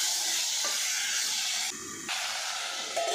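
Bitter gourd pieces, soaked with turmeric and squeezed dry, fry in hot oil with a loud, steady hiss that dips briefly partway through and then resumes. No voices are present.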